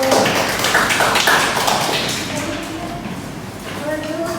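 Classroom applause for a student group that has just finished presenting: a burst of many clapping hands that swells early, then thins and fades, with voices talking underneath.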